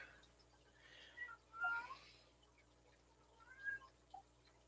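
A domestic cat meows several times, with short high calls around the middle and again near the end, fairly close against a quiet room background with no talking.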